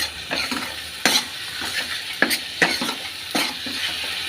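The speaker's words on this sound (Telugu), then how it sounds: "ఈ టమాటా మసాలా అంతా వేసేసి బాగా వేగాలండి, నూనె తేలిన వరకునండి" Tomato masala sizzling and frying in oil for a rajma and cauliflower curry, with steady crackle broken by several sharp scrapes and stirs of a spoon in the pan, close and alone with no voices.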